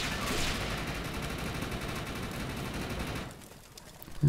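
Sniper gunfire in the Defiance video game, heard as a steady crackling barrage of shots over noisy combat ambience that drops away toward the end, followed by a final thump.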